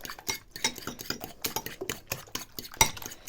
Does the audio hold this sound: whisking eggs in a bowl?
yes